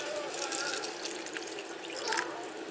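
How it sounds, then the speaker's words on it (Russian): Water pours steadily from a kettle into two containers, a soft continuous splashing and trickling at close range, fairly quiet. "Сейчас залью их оба контейнера водичкой просто."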